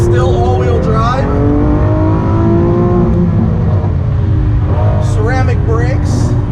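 A Lamborghini Aventador SVJ with an all-wheel-drive V12 and ceramic brakes laps a cold, slick race track, its engine loud and close, rising in repeated revving sweeps through the gears under steady road and wind roar.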